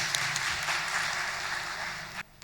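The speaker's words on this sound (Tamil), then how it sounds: "நல்ல ஒரு கைத்தட்டல் கொடுத்து வரவேற்பு கொடுக்குது" Audience applause welcoming a speaker at a Republic Day debate event, a dense steady wash of clapping that runs for about two seconds and then cuts off abruptly.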